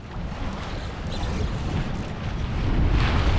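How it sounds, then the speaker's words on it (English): Steady wind rushing past a small sailboat in open water on the River Blackwater, a broad continuous roar that swells louder toward the end, close and with no talk. "Oh, the wind's picking up now"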